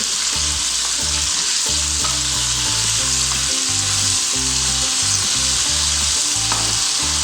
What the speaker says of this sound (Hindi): देखिए ऑयल इसलिए ज़्यादा डाला है ताकि ये अच्छे तरीके से फ्राई हो सके।